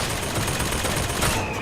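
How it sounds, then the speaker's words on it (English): An automated turret in BioShock Infinite: Burial at Sea lets loose a loud, continuous burst of rapid gunfire that fills the whole moment without pause. "Turrets sound different."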